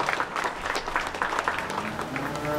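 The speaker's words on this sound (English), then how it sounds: "Let's give all five a really good round of applause for a nice set of steers." Crowd applause at a county fair livestock show after five steers are shown, a steady burst of clapping from a nearby audience lasting a couple of seconds.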